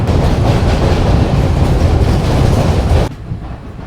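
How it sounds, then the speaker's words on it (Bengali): A Sealdah to Varanasi passenger train running on rails, a loud close rumble with rattling wagons and wheel noise that cuts off abruptly near the end. "দেখতে দেখতে আমাদের ট্রেন এখন ডানকুনি জাংশন পেরোচ্ছে।"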